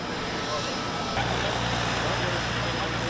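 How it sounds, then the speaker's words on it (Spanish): A Dassault Falcon 900X luxury executive jet, built in France, gives off a steady engine whine and roar that swells in after about a second and holds at a constant, moderately loud level. "El avión en cuestión es un jet ejecutivo de lujo Falcon 900X."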